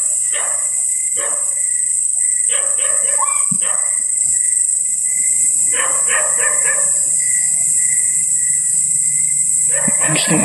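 A dog barks fiercely at night near a hut, loud clustered bursts of sharp barks separated by pauses, over a constant high whine of crickets or insects.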